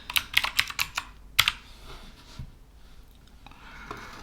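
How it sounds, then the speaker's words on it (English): Typing on a computer keyboard, a quick burst of crisp key clicks followed by a few more isolated taps, close and clear, with no talking. "I'm typing in text."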